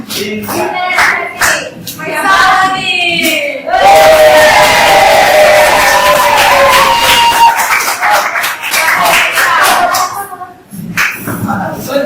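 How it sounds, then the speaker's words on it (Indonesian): A crowd at a teacher coaching workshop breaks into loud clapping and cheering that swells and holds for several seconds, with scattered shouts, before tapering off. "Tepuk tangan dulu dong."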